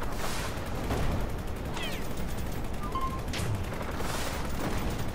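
Steady, dense gunfire from the Star Fox–style shoot-'em-up Rogue Flight, a continuous crackling barrage with sharper shots and blasts scattered through it and no talk over it.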